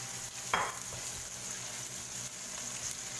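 Ginger goes into a pan of frying squid adobo and sets off a sharp burst of sizzle, which settles into a soft, steady frying hiss with light stirring.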